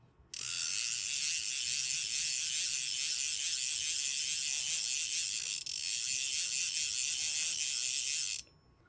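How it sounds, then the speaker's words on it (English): Outgoing drag of a Sage Arbor XL fly reel gives a steady, fast, continuous clicking ratchet buzz that runs unbroken for about eight seconds, up close and alone with no talk. "this has got a nice sound on both the incoming and outgoing, and it is basically the same sound"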